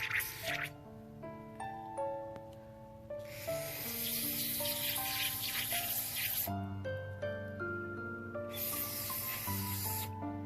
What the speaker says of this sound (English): I'm going to spray down the bolt, get all that junk out.